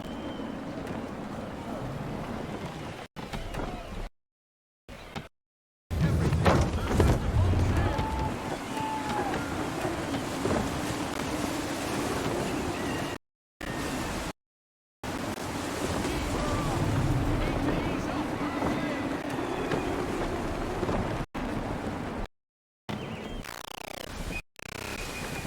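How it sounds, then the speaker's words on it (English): Gusty wind and rolling ocean waves surround a sailing ship at sea in Assassin's Creed 3, a steady roaring wash with surging swells, briefly cut by a few short gaps. "Gusty winds can be difficult to manage."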